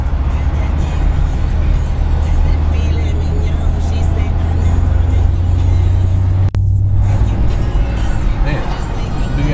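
A truck rumbling past at close range, a loud sustained low roar of engine and road noise that holds steady for several seconds before easing slightly.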